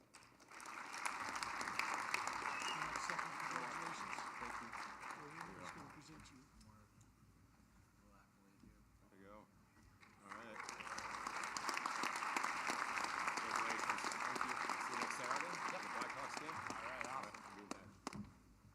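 A banquet crowd at a hockey awards dinner gives two sustained rounds of applause, with a stretch of speaking voices between them.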